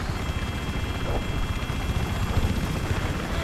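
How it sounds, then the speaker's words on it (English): A transport helicopter in Battlefield 4 thumps with fast, continuous rotor chop, loud and close throughout, with a voice briefly audible over it. "this is a friendly transport chopper."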